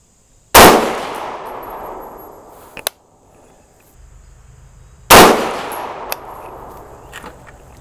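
Two loud 6.5 Grendel rifle shots firing 123-grain ELD-M bullets over 26.6 grains of AR Comp powder, each a sharp blast with a long decaying echo, about four and a half seconds apart, followed by faint clinks.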